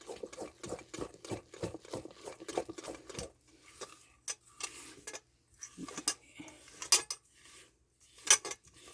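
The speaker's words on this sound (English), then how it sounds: "Mix that up really good. Look at that batter." A utensil clatters rapidly against a bowl while batter is mixed, a quick rhythmic scraping that gives way to scattered knocks and clinks near the mic.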